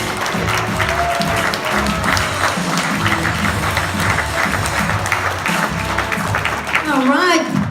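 Comedy club audience at a recovery-themed stand-up show applauding a comedian, sustained clapping and crowd noise throughout, loud and close, with some talking mixed in near the end.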